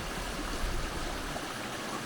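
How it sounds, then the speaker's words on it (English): A river on Dartmoor moors flows and rushes as a soft, steady wash of water noise with no voices. "And then you've got the river that curves around"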